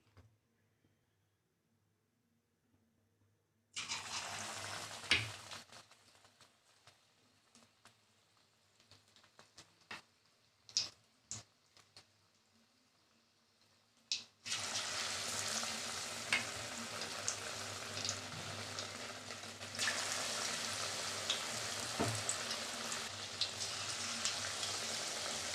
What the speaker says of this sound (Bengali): অল্প আঁচে ভাজতে হবে